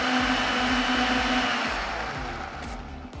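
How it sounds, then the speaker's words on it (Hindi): An electric mixer grinder whirs steadily as it grinds cooled, cooked onion and tomato for a dhaba-style tawa paneer masala. The motor whine is close and continuous, then eases slightly toward the end. "ढक्कन बंद और अब ये ग्राइंड होगा।"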